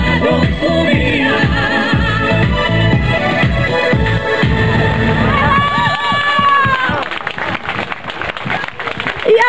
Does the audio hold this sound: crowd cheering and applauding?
yes